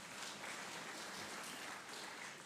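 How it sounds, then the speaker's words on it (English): Audience applause fills a provincial legislature chamber during a state of the province address, a steady dense wash of clapping from many hands that holds throughout without a break. "Can you give yourselves a round of applause?"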